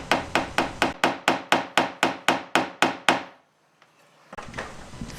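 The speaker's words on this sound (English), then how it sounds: "We're going to take my straight edge screwdriver and with a hammer ever so gently tighten or tap to tighten the nut over the large bulkhead." Hammer tapping a straight-edge screwdriver to tighten a large bulkhead nut on a reef aquarium tank: about a dozen sharp, evenly spaced metallic taps in quick succession, close and clear, then a pause and a few faint knocks.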